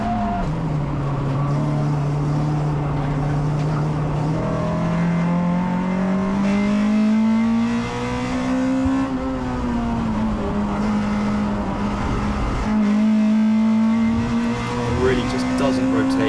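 Onboard engine of a Honda Integra DC2 race car racing in a CSCC Tin Tops event, loud and close, its pitch rising steadily through the gears, dipping on shifts and lifting again, with some tyre noise.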